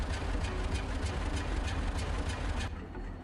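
A GE diesel locomotive passes as a steady, heavy low rumble with a regular rhythmic clatter over it, close and continuous, easing slightly toward the end.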